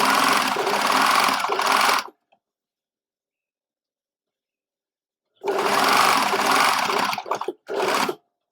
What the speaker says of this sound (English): sewing along the edge, giving the binding just a very slight pull so that it cups the fabric